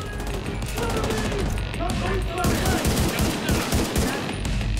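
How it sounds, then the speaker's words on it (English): Dense gunfire and explosions from a battle in the video game The Division 2, with rapid automatic bursts and heavy blasts overlapping continuously at loud, steady intensity. "Some good fire and explosion stuff going on in the battles"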